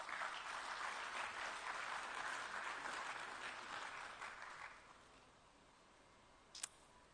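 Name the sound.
audience applause at a closing ceremony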